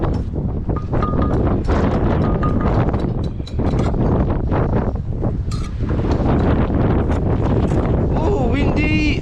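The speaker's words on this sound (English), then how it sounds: "Oh, windy!" Strong wind buffets the microphone in continuous loud rumbling gusts at an outdoor farm rebuild site where large brick arches are being laid, with brief lulls and a voice heard near the end.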